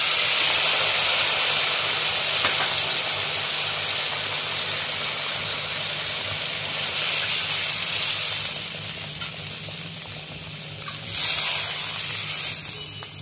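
Steady, loud sizzling and hissing from a hot pan as mustard-paste water goes in for an eggplant and hilsa curry, with a brief louder surge of frying near the end.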